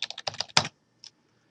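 A computer keyboard clicks through a short typed word in a quick burst of close, crisp keystrokes, then one lone tap follows after a brief pause.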